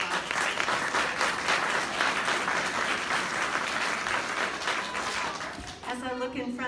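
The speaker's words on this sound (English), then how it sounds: "Please give them a round of applause." An audience at a ribbon-cutting ceremony claps in sustained applause that stays steady throughout and fades near the end.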